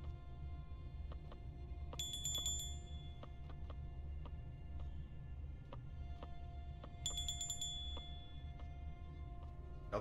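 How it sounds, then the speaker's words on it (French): A vehicle bell in the video game Far Lone Sails rings in two bright metallic bursts a few seconds apart, over a steady low rumble of machinery. "Regardez ma cloche."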